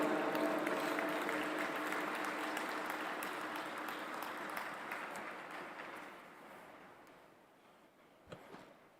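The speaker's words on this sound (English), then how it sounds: "Please give a huge round of applause to Acharya Lokesh Muniji." An audience in the World Peace Dome hall applauds a speaker at the G20 Interfaith Summit, a broad sustained wash of clapping that gradually dies away.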